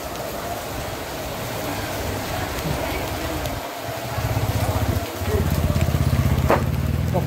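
Steady rain pours over a market street in Rajapur in the Konkan region during the first monsoon rain, a dense continuous hiss with low rumbling underneath that grows heavier toward the end.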